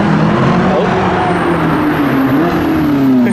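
A yellow Ferrari LaFerrari hybrid hypercar sits parked on a London street, its engine producing a loud, steady rumble whose pitch drifts and rises slightly under constant background noise.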